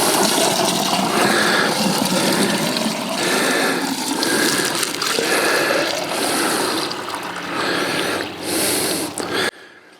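A bucket of pond water is poured into a 4-inch PVC tube among planted strawberries, a steady, loud gushing splash that lasts several seconds before cutting off abruptly near the end.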